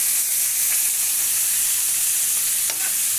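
Shrimp sizzle in a frying pan with a loud, steady hiss, broken by a couple of brief scraping stirs.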